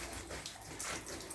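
Water poured over porang bulbils stored in a cool spot, a steady splashing flow that rises and falls, with no speech.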